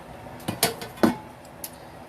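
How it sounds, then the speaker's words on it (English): Spoon knocking and scraping inside a pot as cheese is stirred into macaroni, a few close metallic clanks and scrapes in quick succession. "Let me stir that up."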